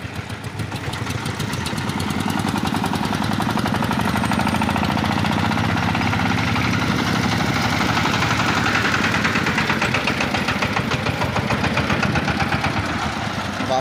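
An engine-powered van runs rough while belching black smoke, a loud, steady, knocking engine rumble with rapid rhythmic pulsing that holds for the whole stretch, with no talk.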